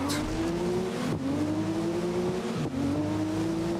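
Ford Sierra race car in GRID (2019) overtaking on a straight, a loud steady engine drone with rising pitch through gear shifts, two brief dips as it changes up, continuous and close without any talk.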